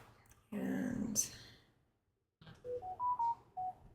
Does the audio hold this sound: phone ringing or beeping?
yes